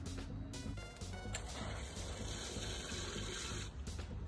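Water is poured from a container onto an air-layered avocado root ball beside a citrus tree, making a steady close splashing gush that runs for several seconds with a brief pause near the start.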